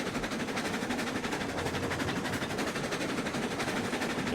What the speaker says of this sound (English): Nice chugging little train there.